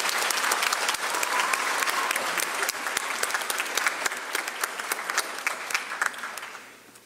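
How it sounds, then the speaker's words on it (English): An audience at a middle and high school spring choir concert applauds, dense clapping with sharp individual claps that holds for several seconds and then fades out. "Let's give them one more round of applause."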